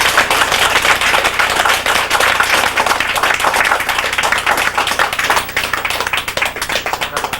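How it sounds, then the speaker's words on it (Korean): Listeners at a lecture on Classical Chinese writing clap loudly and briskly, many hands close by in a dense, crackling burst that holds steady before thinning slightly near the end. "이 사람에게 박수나 한번 쳐고"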